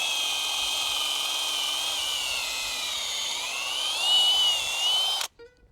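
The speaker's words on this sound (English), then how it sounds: "We're gonna drill a hole through the post" A power drill with a 3/8 bit whines steadily for several seconds, its pitch wavering slightly as it bites through a wooden fence post, then stops abruptly with a few small clicks.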